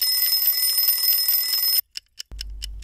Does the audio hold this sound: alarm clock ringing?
yes